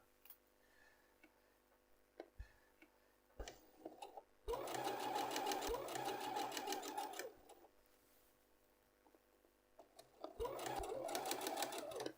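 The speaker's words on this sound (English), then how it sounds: "I want to do a couple of back stitches and then go forward" A sewing machine stitches in a concealed zip in two rapid whirring bursts, separated by quiet stretches with a few isolated clicks and taps and no speech.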